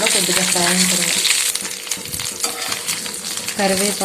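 Curry leaves frying in hot oil in a pan for curry leaf karam powder, a loud close sizzle with brisk stirring and spoon scrapes against the pan, while a voice talks briefly at the start and end.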